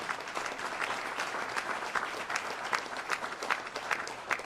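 A crowd at a speech bursts into sustained applause, a dense, even patter of many hands clapping together for several seconds.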